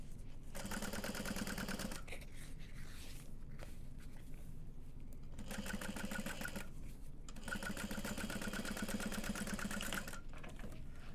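Sewing machine topstitching a tote bag, running in steady rapid bursts with pauses between, close and fairly loud, no talking.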